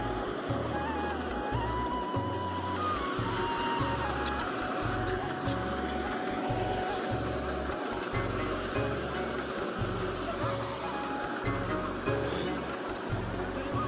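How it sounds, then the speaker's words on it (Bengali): A combine harvester discharges freshly harvested paddy rice grain into sacks, producing a continuous loud mechanical rumble with a rhythmic low pulsing and a busy rattling hiss throughout. "এই হারভেস্টার মেশিন এত স্পিডে ধান বের করতেছে"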